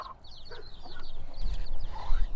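A mother hen with her chicks in a mobile brooder on a homestead: soft, close clucking and high chick peeps that overlap continuously, with a low rumbling background.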